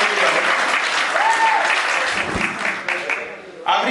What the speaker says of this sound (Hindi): पसंद नहीं भी आएगी ताली बजाओ।